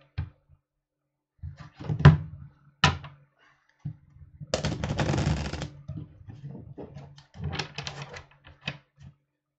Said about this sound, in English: now we are shuffling and going to Taurus.